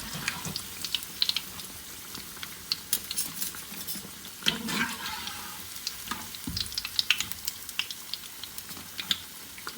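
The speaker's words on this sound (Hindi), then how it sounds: "अब दूसरी साइड हम लोगों ने पलट दी है और इसको दूसरी साइड से भी अच्छे से गोल्डन करेंगे" Aloo pakora sizzling in hot ghee after being turned to the second side, a steady crackling fry with small pops and an occasional utensil clink, no voices.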